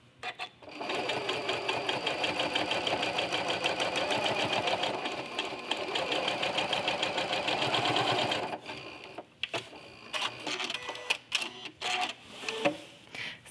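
A sewing machine with a walking foot stitching curved serpentine quilting lines across a quilt top, running in a steady, rapid mechanical chatter for about eight seconds before stopping, followed by a few scattered clicks and handling knocks.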